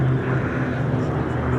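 Low, steady droning hum of a four-engine B-17 bomber flying past at an airshow, its propeller tone continuous and fairly loud throughout with no breaks.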